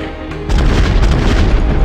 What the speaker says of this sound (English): This is Tango 2-Niner requesting airstrike at grid location 2355 by 4646.